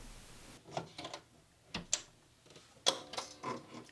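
A home sewing machine runs a straight seam on pinned pieces of a child's pants with an elastic casing, giving several short mechanical bursts of clicking and whirring separated by pauses, close and fairly quiet.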